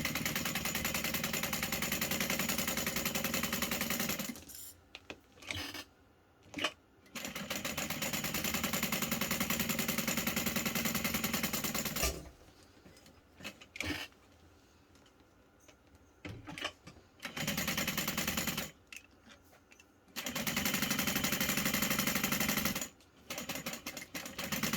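Sewing machine stitching backpack straps in bursts of rapid, even mechanical whirring, separated by quiet gaps where the stitching stops and restarts, close and alone without speech.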